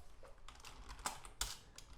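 Someone types on a computer keyboard, entering JSON into a request body: a brisk run of light key clicks with a couple of louder, sharper strikes, close and alone.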